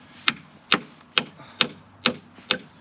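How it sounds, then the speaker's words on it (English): Parts of a metal chicken coop are struck by a hammer in six evenly spaced, sharp metallic taps, close and moderately loud, with no voices over them. "Yeah, here, hammer that one in."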